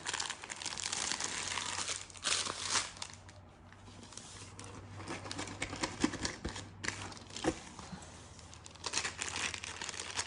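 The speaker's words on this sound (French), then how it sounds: "ça ne me dérange pas de tout déchirer l'enveloppage" Plastic wrapping on a diamond painting kit being torn and crumpled up close, a busy run of crinkling, rustling and tearing bursts with brief pauses, no talk.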